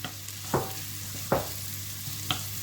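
Onions frying in about 30 grams of butter give a soft, steady sizzle, with a few sharp utensil scrapes against the pan standing out.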